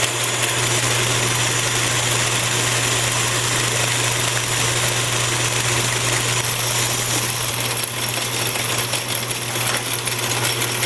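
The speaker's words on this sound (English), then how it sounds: "Really pushing this little lathe." A small lathe runs under heavy load while a diamond grinding wheel crush dresser is tested, a loud steady motor hum with a constant low drone and grinding hiss, close and unbroken, with no talking.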